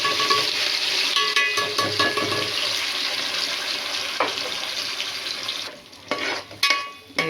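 Green chillies fry in hot oil with a steady, close sizzle and light stirring, the sizzle thinning toward the end with a few scrapes.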